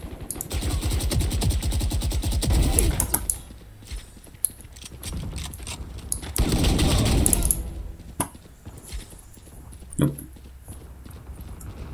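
Bursts of rapid gunfire from a player's weapon in the tactical shooter Valorant, two loud sustained volleys separated by quieter gaps with a few isolated shots, and speech faintly in the mix.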